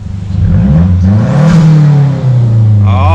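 A Mazdaspeed3 with an HKS blow-off valve and aftermarket exhaust revs hard up close, its loud engine note climbing and falling, with a brief valve whoosh and flutter near the end.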